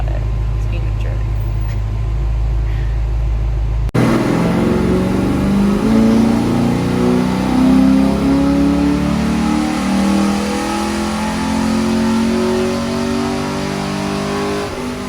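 A Pontiac G8 car engine revs and pulls under load, a steady rising engine drone with audible harmonics, loud and sustained after a quieter opening, with people talking over it.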